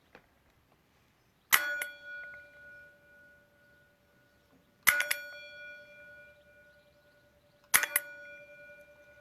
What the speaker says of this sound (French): avec ma cloche magique, je vous emmène dans un rêve profond.